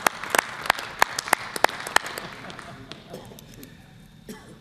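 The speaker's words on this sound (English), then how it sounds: "so I think we ought to give him a round of applause" Scattered clapping at a city council meeting, a handful of sharp, fairly close claps in a brief irregular burst that fades within a couple of seconds.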